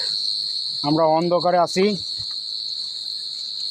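Loud, unbroken cricket chirping fills the night darkness, with a short stretch of nearby talk partway through.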